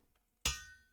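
A gavel hammer smacked once in the modded Minecraft pack All the Mods 10, a single sharp, bright strike after near silence, ringing briefly before fading out.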